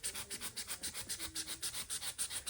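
A knife drawn repeatedly through a ballast mat laid along Lionel Fastrack, giving steady rhythmic scraping strokes about five per second, close and fairly loud, with no talking.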